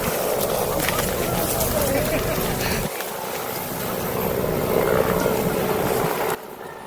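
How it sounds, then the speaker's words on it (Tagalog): A helicopter passes over a mountain bike park, its steady rotor drone and engine rumble carrying from a distance beneath people talking excitedly. "Honestly, itong helicopter na to, nakakadagdag ng positive hormones."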